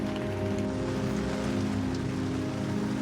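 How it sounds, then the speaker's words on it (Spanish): Steady rain falls during a storm in Estonia, a dense, even hiss of drops drumming on a nearby surface. It holds constant throughout under a faint low hum, with no speech. "Disfrutando de la lluvia."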